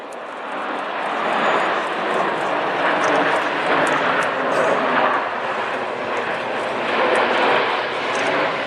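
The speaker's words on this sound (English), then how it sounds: "As the jets go upside down, boys and girls, the pilots will see you waving." Red Arrows jets roar overhead at the Farnborough Airshow, a loud, broad rushing engine noise that swells and holds across the whole stretch, with an announcer speaking over it.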